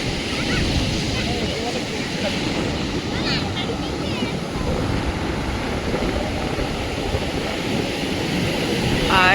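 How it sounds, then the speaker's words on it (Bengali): Sea waves at the foot of the south cliff at Varkala beach roar as a steady, broad wash of surf with rolling rushes and some wind buffeting, while a person speaks over it. "এই হচ্ছে সমুদ্র।"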